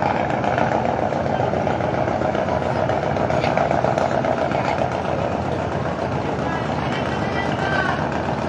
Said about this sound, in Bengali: লঞ্চের ইঞ্জিনের সাউন্ড হয়তো আপনারা শুনতে পাচ্ছেন এখন